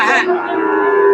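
A Jersey heifer at the Chandaikona cattle market gives one loud, close, drawn-out moo that holds steady for about a second with no speech over it.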